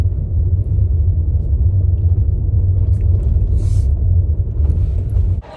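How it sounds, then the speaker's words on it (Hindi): Steady low engine rumble and road noise of a car from inside the cabin while driving to a market, continuous and loud throughout, with a brief shift near the end. "मैं फर्स्ट टाइम व्लॉग करते हुए कार चला रहा हूँ"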